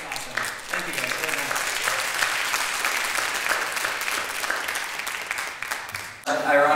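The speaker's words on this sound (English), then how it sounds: "Can we have another applause for the other alumni?" Audience applause for alumni at a high school PTA event, a steady, dense wash of clapping that holds for several seconds and then breaks off near the end into a louder, closer burst of sound.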